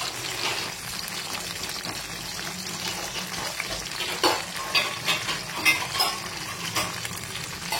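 Food frying in hot oil in a pan gives a steady, close crackling sizzle, with sharper bursts and scrapes from stirring toward the end. No voices.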